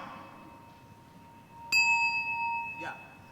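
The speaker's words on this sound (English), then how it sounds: "mindfulness bell" A single mindfulness bell is struck once in a classroom, giving a bright ringing chime that sustains and fades over about a second, with a soft voice just afterward.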